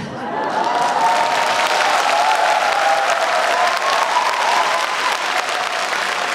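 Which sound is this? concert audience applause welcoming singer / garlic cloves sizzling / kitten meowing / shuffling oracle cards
concert audience applause welcoming singer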